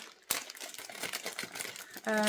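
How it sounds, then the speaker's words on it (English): Plastic or paper crinkles close to the microphone in a continuous, rustling stream of crackles, quiet overall, with a sharp snap at the start and a steady tone at the end. "Sorry, I'm crinkling."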